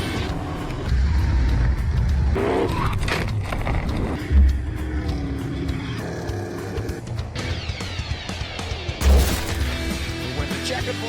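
NASCAR race cars at a Belgian circuit during a 2019 Elite 2 final: a loud, continuous engine roar with a couple of heavy thumps, while a commentator talks over it.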